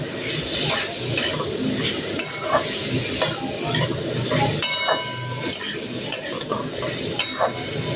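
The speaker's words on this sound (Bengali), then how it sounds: "ডাল সব উপকরণ একসাথে দিয়ে দেবো। একটুখানি ভেজে নেবো।" Lentils, onion and chilli fry in mustard oil in a wok, sizzling steadily while a metal spatula repeatedly scrapes and clinks against the pan close up.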